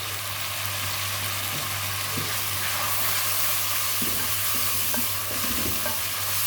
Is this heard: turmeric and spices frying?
yes